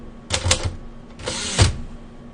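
Keystrokes on a Royal Arrow manual typewriter while typing business documents, two quick bursts of clacking strikes with a heavier carriage thump near the end, close and alone.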